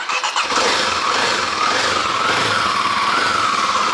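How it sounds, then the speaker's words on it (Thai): A Kawasaki D-Tracker 250 motorcycle started by remote: a brief cranking burst catches into a loud, steady single-cylinder idle close by, with no voices. "ดูนะครับผมจะกดที่สตาร์ทรีโมทดู"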